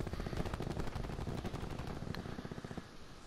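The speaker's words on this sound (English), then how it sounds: "I'm getting shot in the freaking back." Rapid video game gunfire strikes the player from behind, a dense, steady stream of close automatic shots lasting several seconds with no talk over it.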